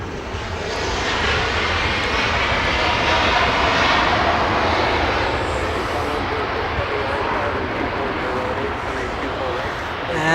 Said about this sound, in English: We go to Alaska Airlines. This one flying in from Austin, Texas.